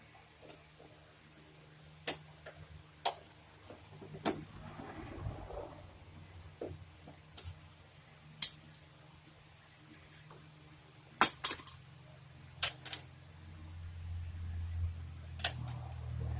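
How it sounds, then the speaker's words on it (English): Loosening the top strut tower bolts on a Honda gives sharp metallic ticks and clinks at irregular intervals, with a low rumble building near the end and no voices. "Then I'm going to jump up here and undo those top bolts"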